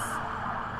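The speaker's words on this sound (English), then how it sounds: "we're gonna be hearing a lot of sirens" Emergency vehicle sirens sound steadily in the background during fires in California, a continuous wailing tone that fills the short moment without pause.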